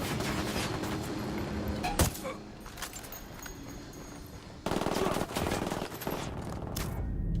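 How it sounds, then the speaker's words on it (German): Bursts of automatic gunfire and rattling shots in the video game Ghost Recon Wildlands, dense and fairly loud throughout, with a sharp crack near the two-second mark and a heavier volley in the second half. "So, da schießen sie auf mich."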